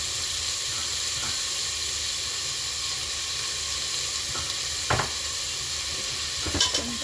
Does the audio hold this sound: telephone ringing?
no